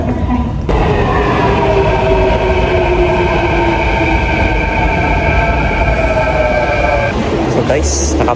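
Steady rumble of a train ride in Japan, with continuous low rolling noise and faint tonal whine throughout, rising into a brighter rattle near the end; a person talks over it.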